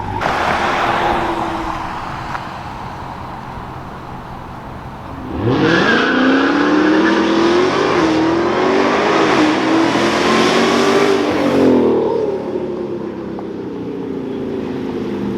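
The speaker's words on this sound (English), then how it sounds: "So I'm gonna let y'all see bro do a launch in his Hellcat." A Dodge Hellcat idles with a low rumble, then launches using launch control: the engine roars up sharply and holds a loud, rising, wavering rev for several seconds before easing back down.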